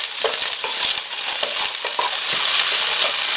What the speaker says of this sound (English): Add soya chunks, green peas, and cook everything for 5 minutes.